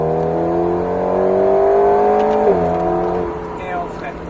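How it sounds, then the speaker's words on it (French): An Alpine A110S accelerates hard on the Alès race circuit, its engine note climbing steadily and loud from inside the car, then shifting and easing off near the end as a voice talks. "on reprend les gaz"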